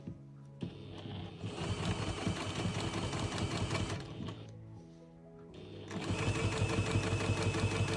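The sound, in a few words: sewing machine stitching quilt edge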